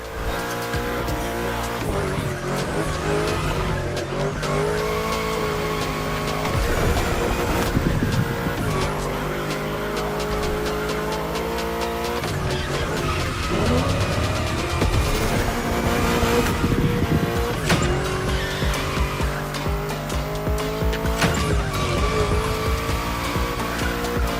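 Car cornering in The Crew Motorfest racing game, with sustained tire squeal and skidding over a steady engine drone, continuous and loud throughout with music-like tonal layers in the mix.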